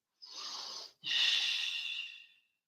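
A yoga practitioner breathes deeply and audibly through a seated twist: one long, airy, rushing breath, a brief pause, then a second longer breath that fades out, all close and loud.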